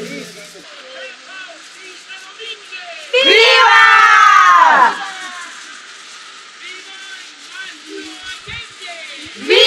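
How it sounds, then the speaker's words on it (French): Mexican Independence Day crowd at a celebration, a loud surge of many voices shouting and cheering together for a couple of seconds, set against lighter chatter and speech before and after. "Dans 5 minutes, on va tous crier Vive Mexico."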